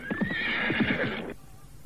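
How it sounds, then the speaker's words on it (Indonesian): Horses ridden by three approaching riders gallop with rapid clip-clop hoofbeats, and a loud whinny rises over them before the sound cuts off abruptly. "3 orang penunggang kuda semakin dekat"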